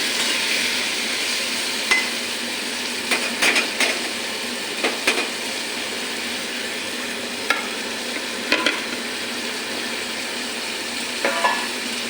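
Spice paste of ground green chilli and turmeric is stirred in a hot pan with pumpkin, giving a steady sizzling fry and scattered soft scraping clinks of the spoon, with no talking.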